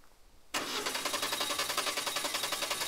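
An old car engine in a video game cranking without catching, beginning abruptly after a short quiet and continuing as a rapid, even, loud starter whir.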